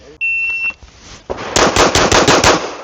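An H&K P7 pistol fired on a shooting range: a shrill electronic shot-timer beep, then a rapid string of about seven sharp, loud shots in quick succession.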